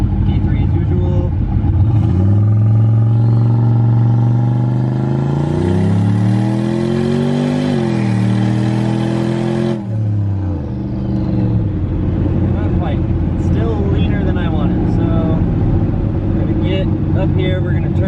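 A turbocharged LS-swapped GMC Envoy launches off the foot brake, its engine revving up, holding a rising drone for several seconds, then cutting off and settling into a lower rumble. It is loud and close, and a voice talks over it.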